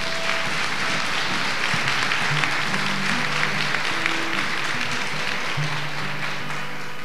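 A church congregation applauds, a steady, fairly loud wash of clapping hands that continues evenly throughout, with organ or keyboard tones faintly underneath.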